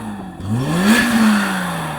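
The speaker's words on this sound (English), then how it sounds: "Now let's quickly compare the sound of these cars' engines." A BMW M5 engine revs once, a short rising and falling blip heard loud and close, with no voices.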